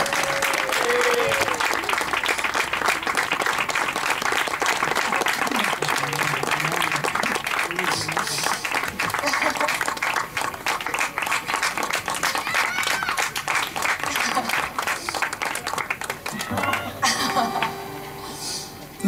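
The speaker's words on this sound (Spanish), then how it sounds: "quiero que le deis un gran aplauso para que sientan todo el apoyo" Sustained loud applause from a concert crowd at a beach bar venue, dense even clapping lasting many seconds before easing off near the end.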